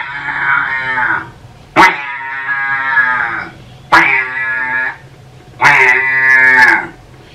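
A man vocally imitates a buffalo calf's call, giving four loud, drawn-out moo-like bleats, each starting with a sharp onset and separated by short pauses, close to the listener with no other sounds.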